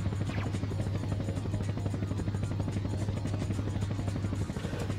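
A helicopter in a Dreamcast demo video game whirs with a steady, loud rotor chop and engine drone, a continuous buzzing hum that holds throughout.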